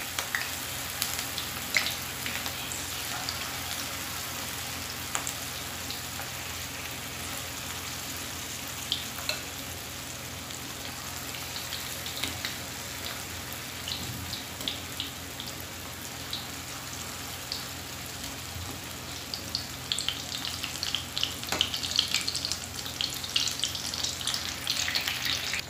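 Barule frying in a pan over low gas, a steady broadband sizzle like light rain that holds throughout, with scattered crackles and pops and a livelier patch near the end, no voices.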